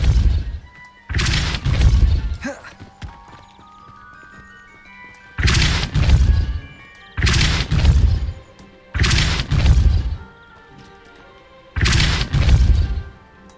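Spell impacts in the video game Hogwarts Legacy, including Depulso and Confringo: a series of loud, booming crashes in a rough rhythm, each a heavy low thump with a crackling burst, separated by brief pauses holding faint game music.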